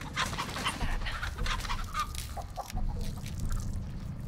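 A chicken in the horror video game The Texas Chain Saw Massacre clucks loudly and repeatedly in quick bursts over a dense, rumbling game background, with no talking.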